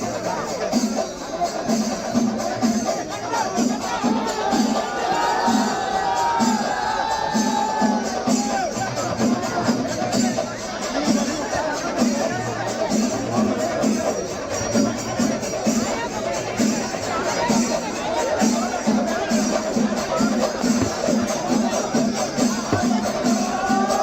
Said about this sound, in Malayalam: കൊടിമരങ്ങൾ പള്ളിമുറ്റത്ത് നാട്ടിയതോടെ പെരുന്നാൾ ആരവം ഉയർന്നു